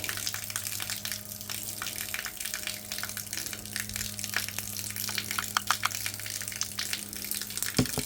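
Water running steadily from a tap through a spot-free rinse filter used for washing solar panels and vehicles, a continuous hiss with faint splashes and a steady low hum throughout, no talking.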